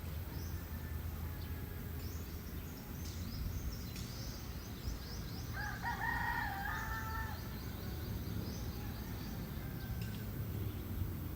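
Roosters crowing on an island in the Philippines, a clear cock-a-doodle-doo rising midway through steady outdoor background noise, with fainter crowing and clucks from farther off before and after.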